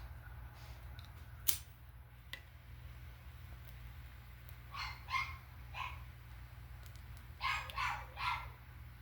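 A caged puppy yips and barks faintly in short bursts in the background of a quiet room, with a steady low hum underneath and a few soft clicks.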